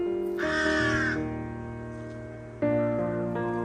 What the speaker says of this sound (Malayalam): കാക്കയെ നോക്കൂ